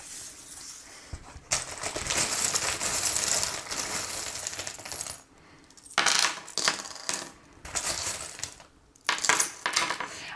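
Small charms being cast and shuffled for a fortune-telling reading, rattling and clinking in repeated bursts of metallic jingling with short pauses between them, close and fairly loud.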